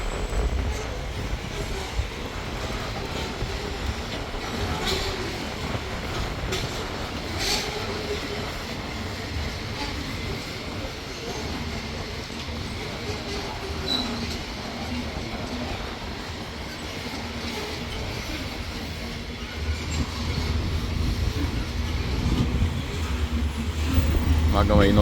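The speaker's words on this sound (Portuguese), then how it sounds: "Aguarda a locomotiva do meio aqui." A loaded freight train in Brazil, locomotives and wagons carrying soybeans, rumbles steadily past up close with rail clatter and squeal, swelling louder toward the end.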